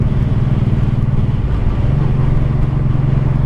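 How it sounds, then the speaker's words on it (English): 1984 Honda Shadow 700 VT700C motorcycle engine dropping out of sixth gear at about 40 mph, a loud steady mid-pitched drone whose tone shifts slightly partway through. "Yeah, it's time to downshift."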